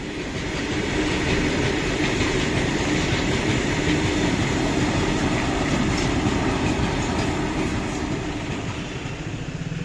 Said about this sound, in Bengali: বলেছিলাম না এখানে মালগাড়ি প্রচুর যাতায়াত করে